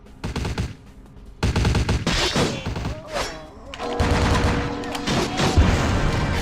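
Explosions and blasts detonate the player in Vampire: The Masquerade – Bloodlines, bursts of loud booming and rattling bangs in several heavy waves, with brief gaps and a rumbling tail.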